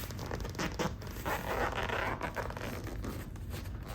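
A zipper on a Saab 900 front seat cover being pulled apart, a steady close rasping rip that continues without a break throughout, with no voices.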